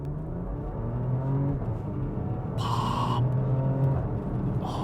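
Porsche Macan SUV accelerating hard in auto mode, a steady close engine rumble with rising harmonic tones as revs climb through gear changes, with no talking.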